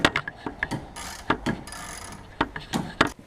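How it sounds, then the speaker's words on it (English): A socket wrench loosening the spark plug on a Toro CCR 2500 snowblower, a quick series of close, sharp ratcheting clicks in irregular bursts with small pauses, and no talk. "So I'm just going to take the spark plug off and we'll check for compression."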